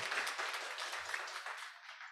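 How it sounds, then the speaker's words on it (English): Audience applause after a presentation at a business summit, a steady wash of clapping from a crowd that holds for about two seconds and then begins to thin out. "Give a round of applause for Dede as well."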